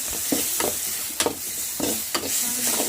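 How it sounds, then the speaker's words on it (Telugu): Tomato egg curry being stirred in a sizzling pan, with several scraping strokes of the spoon cutting through a continuous frying hiss, close and clear with no talk. "మధ్య మధ్యలో తిప్పుకుంటా ఉండాలి"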